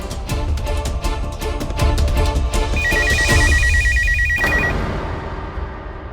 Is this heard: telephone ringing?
yes